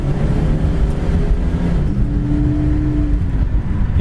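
A turquoise 1966 Ford Mustang GT drives along, its engine a loud, steady low rumble heard from inside the car, with a slight rise in pitch partway through.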